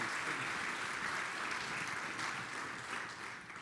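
Steady audience applause at a university gala, dense clapping from a room full of people, fairly even throughout and tapering slightly at the close.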